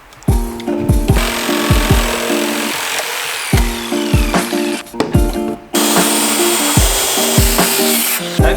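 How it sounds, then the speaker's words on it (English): A small jigsaw cuts a piece off a thick wood slab for a school bus conversion kitchen counter, its buzzing strokes loud and close, running in bursts that stop and restart. "we're just gonna cut this little piece off with the little jigsaw"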